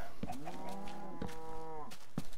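Cows in a pen in a video game let out a drawn-out moo lasting over a second, with a second overlapping low call and a few sharp clicks around it, and no talk.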